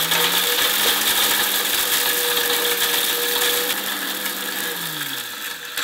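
A blender on high speed grinding cinnamon sticks into powder gives a loud, close, continuous rattling whir with a steady motor whine that eases slightly in pitch toward the end.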